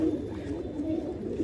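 A pigeon coos in low, repeated throaty calls that run nearly without pause, close and moderately loud over a constant murmur, with no speech.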